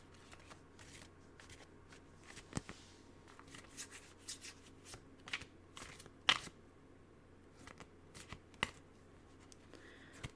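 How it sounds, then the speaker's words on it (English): A deck of tarot cards is shuffled up close in a quiet ASMR setting, with soft rustling broken by crisp snaps and taps at an uneven pace and no talking. "Card shuffling."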